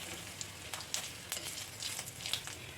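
Dried chili, cumin, cardamom, cloves and bay leaves frying in leftover oil, giving a faint, steady crackling sizzle with a few soft pops and small scrapes.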